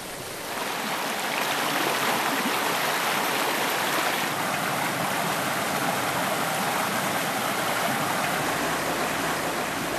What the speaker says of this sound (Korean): 이렇게 물소리가 큰 계절에